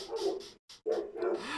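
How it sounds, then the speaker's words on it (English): Dogs bark in short, close yapping bursts broken by a brief pause, loud and alone without talk. "Oh, poor Mike and his dogs"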